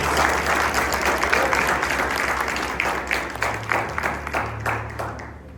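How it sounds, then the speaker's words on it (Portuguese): A church congregation applauds in a worship service, a full room of clapping that is loud at first and gradually thins into scattered claps, with a low hum from the sound system underneath. "Você pode aplaudir a Deus pelo que Deus está fazendo."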